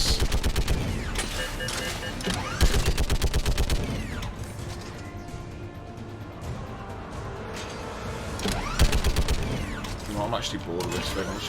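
Mounted turret gunfire in Mass Effect 3, loud rapid bursts of automatic shots in two main volleys with mechanical clatter between them, and a voice talking over the action.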